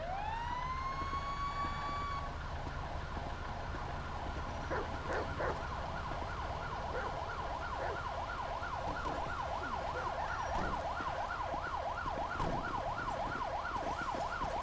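An ambulance siren responding code 3 in a police and emergency simulation game, opening with a rising wail and then switching to a rapid repeating yelp, steady and prominent over faint traffic rumble, no speech.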